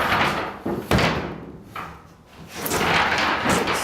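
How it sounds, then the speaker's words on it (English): A sliding pocket door in a haunted house trailer under construction rolls and bumps in its frame. Several sharp knocks are separated by short rumbling slides, close and moderately loud. "This sliding door."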